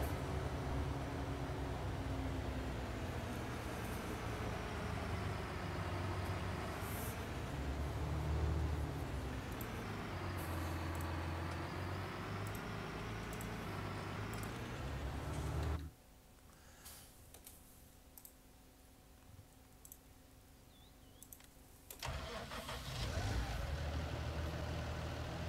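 A vehicle engine in Farming Simulator 19 runs with a steady droning rumble that rises and falls as it drives off. It drops suddenly to a faint hush before returning.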